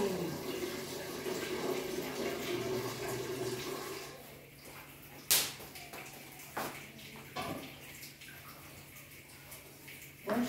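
Water runs from a tap for about four seconds as a steady rushing flow, then drops to a quiet room broken by a few sharp clatters and knocks.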